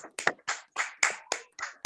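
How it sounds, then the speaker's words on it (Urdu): Eight sharp, evenly spaced hand claps from a worshipper in an online prayer meeting, coming through a meeting microphone close and dry, with no voices in between. "آئیے ہم زوردار تالیاں بجائیں خداوند کے جلال کے لیے."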